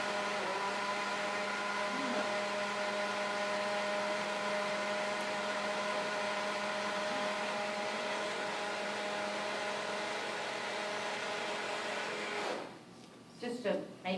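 A small blender whirs a sauce of mushrooms, onion, low-sodium tamari and dried thyme, giving a steady, moderately loud motor hum with a tonal whine for about twelve seconds before it stops.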